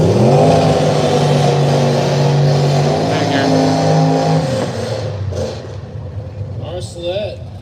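A newest body style Mustang and an old T-top car rev hard at an arm drop drag race, with loud engines holding steady harmonic tones and then cutting off, while people talk nearby.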